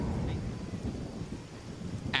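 Rain and rolling thunder in The Witcher video game, a low continuous rumble under steady rainfall that stays fairly quiet, with a brief higher burst near the end.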